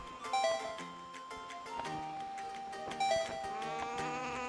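Bleating from a sheep-bird creature in The Wind Waker HD video game, a few short cries rising over a busy game soundtrack with music and effects throughout.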